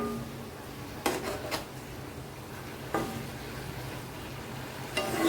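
A patol, brinjal and drumstick curry with mustard paste is stirred in a pan over raised heat. Low frying hiss runs underneath a few sharp utensil scrapes and clinks against the pan, spaced a second or two apart.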